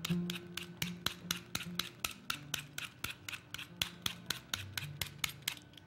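Dark baking chocolate is grated over tiramisu in quick, regular rasping strokes, several per second, quiet and close with no talking.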